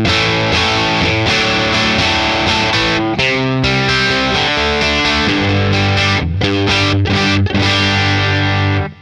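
Electric guitar played through a Boss Katana 50 Gen 3 amp on a tweed combo model, a warm, slightly overdriven small-amp tone, strummed chords and riffs ringing out with brief pauses, close and loud.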